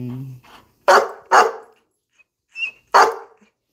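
A rescue dog barks in sharp, loud bursts, three or four close barks with short gaps between them, plus a brief yip, heard nearby indoors with no talking over it.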